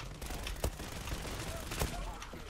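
A +6 weapon fires in a video game, a few sharp shots spaced apart over steady background noise, fairly faint and mid-distance, with a voice talking alongside.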